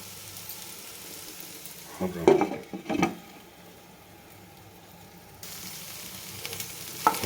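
Okra frying in a pan gives a steady close sizzle, with a couple of louder stirring bursts and scrapes partway through.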